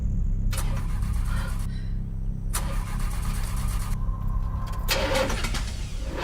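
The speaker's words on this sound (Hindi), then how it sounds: "ये गाड़ी स्टार्ट क्यों नहीं हो रही है?" A car engine cranks in three separate bursts of rapid starter whirring, each a second or so long, with short pauses between tries and no catch, under a steady low rumble.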